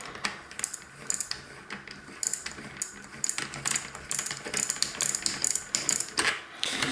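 Wrench work on a bicycle freewheel during removal from a bolt-on wheel hub, with a steady run of close, quiet ratcheting clicks and metallic ticks in uneven bursts.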